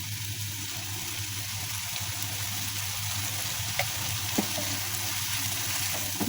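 Spices for Bengali prawn malaikari frying in a pan with a steady close sizzle and soft crackle, low hum beneath and a few faint stirring clinks, no voices.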